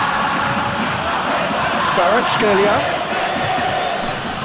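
Stadium crowd noise from an eFootball PES 2025 match, a steady roar of fans with a brief swell of cheering midway, heard beneath a commentator's voice.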